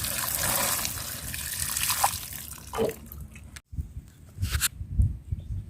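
Water is poured onto a newly planted wax gourd in a sack, splashing and trickling in uneven bursts up close, with short pauses between pours.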